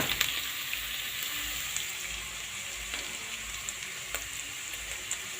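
Meat sizzles and fries steadily in hot ghee with wilted onions, a dense, close crackle with occasional louder pops.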